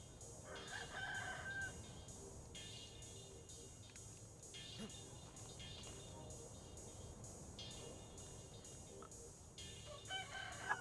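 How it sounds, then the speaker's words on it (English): Chickens and a rooster in the medieval farming game Medieval Dynasty, with several faint cock-a-doodle-doo crows and scattered clucks repeating across a quiet village ambience. "I have chickens here."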